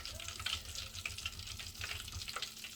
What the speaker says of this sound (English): Let's fry the rest of it